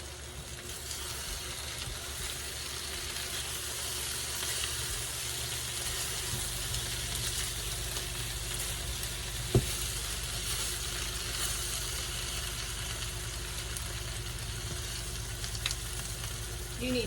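Pierogies sizzle steadily in a pan while being stirred, a constant, even hiss of frying with one brief click partway through.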